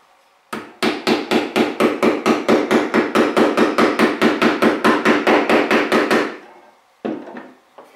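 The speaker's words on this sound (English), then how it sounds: "use a hammer and just strike down on them" A hammer strikes down on the teeth of a saw resting on a piece of hardwood, some twenty-five sharp, evenly spaced blows in quick succession, loud and close, then a brief second burst after a pause.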